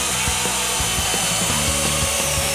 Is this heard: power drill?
yes